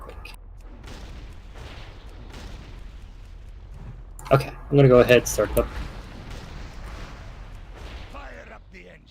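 A cannon fires in a World of Warcraft Cataclysm raid, a cluster of loud booms and blasts midway through, with people talking before and after.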